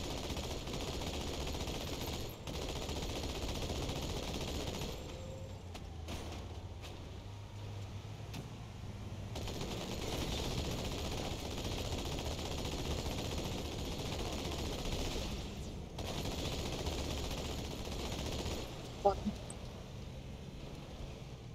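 Machine-gun fire from Marines in the Halo 2 Metropolis campaign crackles in a steady, dense battle din throughout, with a sharp louder burst near the end, under and between talk.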